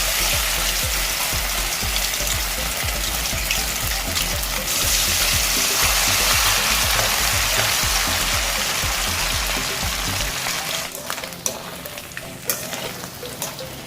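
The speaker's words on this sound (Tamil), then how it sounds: "எண்ணெய் சூடானதும் நம்ம மேரினேட் பண்ணி வச்சிருக்கிற மட்டன் பீசஸை கொஞ்சம் கொஞ்சமாக போட்டு ஃப்ரை பண்ணி எடுத்துக்க போகிறோம்." Marinated mutton pieces fry in hot oil in a kadai with a loud, steady sizzle and crackle that fills the space, dense and continuous, then thins toward the end with a few sharper pops.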